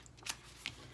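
Tarot cards shuffled and flicked through by hand in two or three short, crisp riffling bursts, close and fairly quiet, with no talking.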